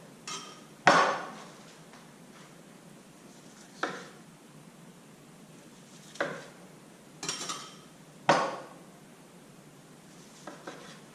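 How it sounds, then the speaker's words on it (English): A kitchen knife slices through a lionfish sushi roll on a cutting board, giving a few sharp separate knocks and scrapes spaced a couple of seconds apart, close and quiet, with no talking. "this is going to be the roll that I'm going to cut now"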